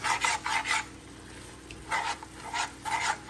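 A spoon scraping and stirring yogurt into palak paneer in a pan, several short rhythmic rasping strokes in two bursts with a brief pause between.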